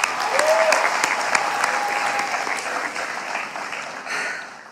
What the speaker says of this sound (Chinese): 希望大家把掌声送给他